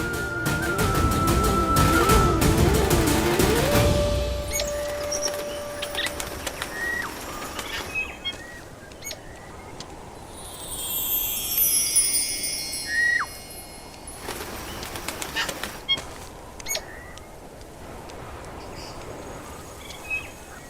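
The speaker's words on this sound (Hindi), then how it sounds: "ये तो कोई प्रवासी पक्षी है" Melodic calls of a migratory bird, heard briefly and fairly faint after a loud opening passage of music, with a few high chirps and a descending whistle scattered over quiet ambience in a Ramayan drama scene.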